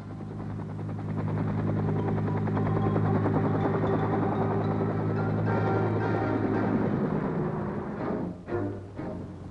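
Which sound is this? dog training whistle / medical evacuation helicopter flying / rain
medical evacuation helicopter flying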